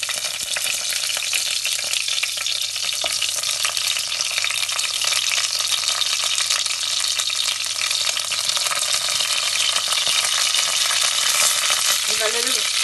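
Mustard seeds, curry leaves and dried chillies fry in hot oil for a Palakkad-style Kerala fish curry, giving a loud, steady, continuous sizzle with crackling pops throughout and no voices.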